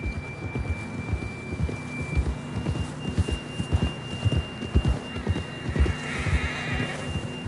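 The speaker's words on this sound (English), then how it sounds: "John was riding that horse when we left Blackwater." Rhythmic clip-clop of horse hooves at a steady canter in a video game, close and clear, with a faint whinny and a soft background tone.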